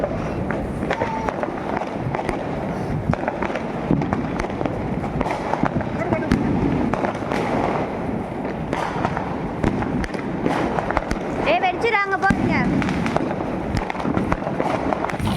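Diwali firecrackers bursting in a residential celebration, a dense continuous crackle of many small pops with a few sharper bangs, fairly loud throughout, with voices and a whistling rocket-like sweep near the end.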